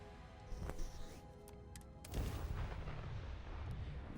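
Turret and obliterator cannon fire from a spaceship in a video game: a series of heavy booming shots and blasts, one sharp burst early, then a louder rolling barrage that keeps rumbling to the end.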